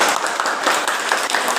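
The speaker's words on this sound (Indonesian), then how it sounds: "Semuanya kasih tepuk tangan untuk kelompok 4 yuk." A classroom of students claps for a presenting group, a short, dense burst of applause from a room full of people that stays steady for under two seconds.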